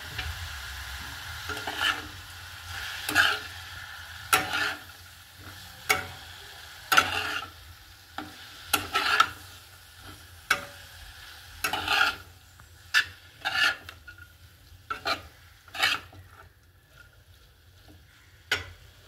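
Cabbage, carrot and potato filling for paratha being stirred in a pan, with a soft sizzle under rhythmic, fairly loud spatula scrapes and taps repeating every second or so.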